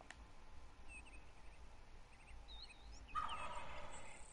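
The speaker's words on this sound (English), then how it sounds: "Oh, did you guys hear that turkey?" A wild turkey gobbles in a hunting video game, a few faint, distant warbling calls rising over a quiet outdoor background, followed by a louder burst of noise.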